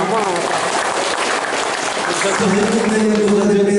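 Applause for a pastor at a church gathering, a loud, continuous crowd clapping with a voice speaking over it toward the end.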